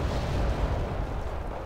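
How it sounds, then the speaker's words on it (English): Low, rumbling artillery fire from the war strategy game Wargame: Red Dragon, a continuous booming barrage with dense low-end roar and no clear gaps, steady and loud throughout. "Oh, they have artillery."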